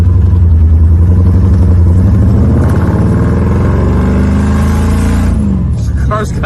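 A muscle car with a loud exhaust idles and revs, producing a heavy, steady rumble close to the listener that swells slightly, with a rattling clatter near the end.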